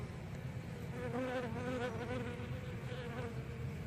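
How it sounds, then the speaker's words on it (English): Honeybees buzzing over a brood frame as a swarm is moved into its hive, a steady close drone of many wings that swells slightly in the middle. "You got the worker bees working on them."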